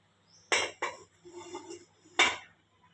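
A steamer pot lid lifted after ten minutes of steaming an instant breakfast batter, heard as a few sharp metallic clanks and scrapes, close by, followed by a soft rattle and a final clatter.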